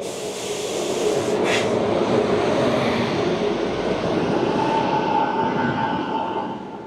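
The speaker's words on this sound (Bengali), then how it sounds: "করমণ্ডল এক্সপ্রেস কতটা বড় এই ট্রেন যখন কার্ভ নেয় তখনই বোঝা যায়" The Coromandel Express rumbling along the rails as it takes a curve, a steady broad roar with a faint high squeal, building in and holding before fading slightly at the end.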